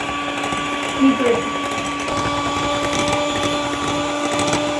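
Electric hand mixer beating butter and powdered sugar for homemade cookies, a steady whining motor hum running throughout at close range, with a brief bump near the start.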